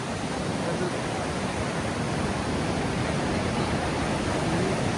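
A constant, powerful roar of rushing water at Niagara Falls, dense and unbroken like a waterfall close by, loud and steady throughout.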